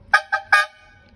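A vegetable-seller style car horn worked by a pull cord gives three short, loud honks in quick succession, the last held slightly longer, heard close up with no talking.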